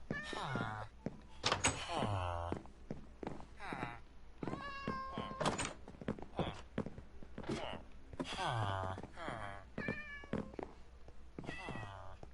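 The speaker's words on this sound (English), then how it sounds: "I hear a cat." A cat in a PS4 video game meowing repeatedly, a series of short, clear, close meows spaced across the stretch with light thumps between them.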